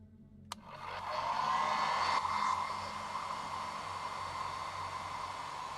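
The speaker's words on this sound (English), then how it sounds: "I'm just going to get the hairdryer out." A hair dryer switches on with a sharp click and runs as a steady, loud, close rushing whoosh, used while speed painting miniatures.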